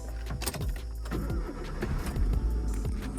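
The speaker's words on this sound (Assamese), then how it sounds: "চাওক এটা চেল্ফতে গাড়ী ষ্টাৰ্ট লৈছে" A car engine cranks and catches, rumbling into a low idle, with a few faint mechanical clicks.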